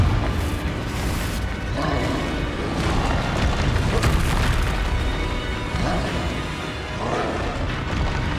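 The Confringo explosive spell goes off in Hogwarts Legacy amid a busy game battle, a dense run of loud booms and bursts over constant combat noise.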